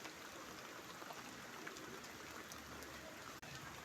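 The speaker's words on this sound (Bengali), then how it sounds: "দেখো দেখো প্রচণ্ড বৃষ্টি হচ্ছে, মেঘলা আকাশ" Heavy rain on a cloudy day makes a dense, even hiss of falling drops, steady and quite faint throughout, with no voices over it.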